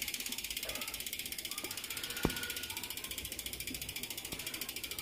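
An XDS mountain bike's bearing-equipped rear hub freewheels as the wheel spins, giving a fast, steady ratcheting click throughout, close and clear, with one sharp knock partway through and no talking.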